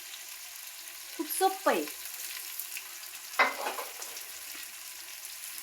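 Potatoes, onion and green chillies cooking in oil in a pan, a steady faint sizzle under a woman's brief speech, with a couple of stirring scrapes.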